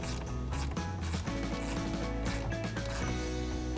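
Ratchet snugging a factory bolt on a Jeep JL Wrangler cold air intake, quick rapid clicking strokes with metallic rattling in a garage, close and continuous with no talking.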